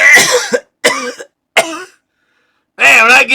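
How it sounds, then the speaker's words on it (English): A man coughs in several sharp bursts, loud and close, separated by short silences, with a final longer throaty cough at the end. "when I get excited, I start coughing"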